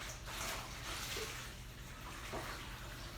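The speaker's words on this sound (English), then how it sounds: "Give it a quick rinse." Steady wash of running water as a Vileda Turbo mop head is rinsed, a continuous close splashing flow with no pauses and no talking.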